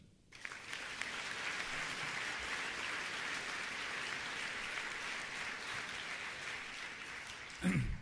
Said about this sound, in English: So please give a round of applause to John, to Satya, to Paul, and to Sundar.